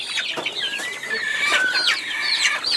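Three-month-old rooster clucking in a farm cage, with several close, bright calls and drawn-out squawky notes following one another over a couple of seconds.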